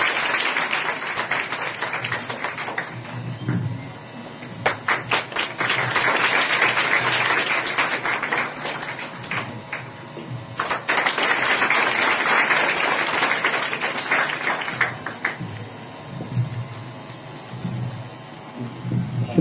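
An audience at a District Legal Services Board Mega Lok Adalat event in Bidar claps steadily for nearly twenty seconds. The dense, moderately loud applause swells and thins in waves, with room hum underneath.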